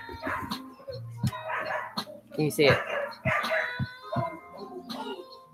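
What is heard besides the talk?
neighbourhood dogs barking outside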